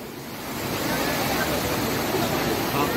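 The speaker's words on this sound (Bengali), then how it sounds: "চারিদিকে জলের আওয়াজটা" Steady broadband rush of flowing water, a stream or small waterfall at an eco resort in Purulia, continuous and fairly close, rising slightly at the start and holding even throughout with no clear talk over it.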